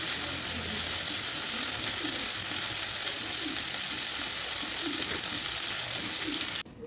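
Katla fish pieces fry in a pan with hot oil, giving a steady, close hiss and crackle that runs evenly throughout with faint soft pops, ending abruptly.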